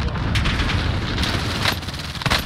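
Sustained gunfire in a Warzone match, continuous rattling shots at moderate distance with a few louder cracks, mixed with game ambience.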